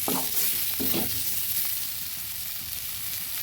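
Flat beans, potato and fenugreek greens sizzling in a pan, a steady hiss of frying with a few soft stirring scrapes near the start, close by and with no talking.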